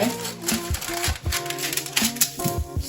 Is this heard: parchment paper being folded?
yes